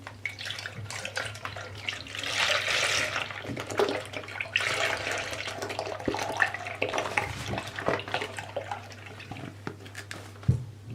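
About a litre of milk pours from a container into a pot for the milky sauce of a homemade trileçe dessert. A steady liquid stream splashes and gurgles for several seconds, close and fairly quiet, with no talking.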